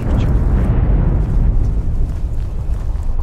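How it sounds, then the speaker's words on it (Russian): A heavy explosion in the video game You are Here, a loud low rumbling blast that roars continuously and slowly decays, dominated by deep bass with no talk over it. "Опа, ничего себе взрывчик."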